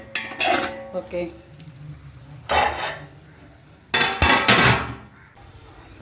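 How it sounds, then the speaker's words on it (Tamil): Tomatoes sautéing in a pot for chicken biryani, heard as three bursts of loud metallic clanks and scraping from a ladle against the pot, close by, with a brief spoken word between them. "கொஞ்ச நேரம் இது சிம்லேயே வச்சு நம்ம நல்லா தக்காளியை வதக்கிக்கலாம்."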